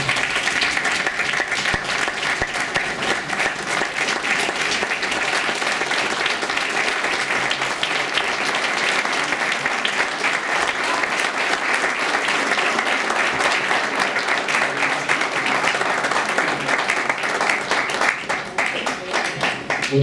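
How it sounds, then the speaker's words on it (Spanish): Sustained, even applause from a standing audience at a tribute ceremony, many hands clapping in a dense, steady roar that holds for the whole stretch. "un aplauso para Marco Papós."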